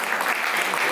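An indoor audience at a Diwali cultural program in a hall bursts into a short, dense round of clapping, loud and steady throughout.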